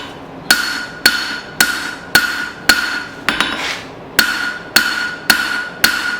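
A hammer beats down the handle of a knife being forged from an old steel file, thinning it: about ten sharp, ringing blows at a steady, unhurried rhythm, close and loud, with no talk.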